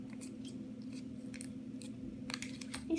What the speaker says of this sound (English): I'm gonna cut this piece off.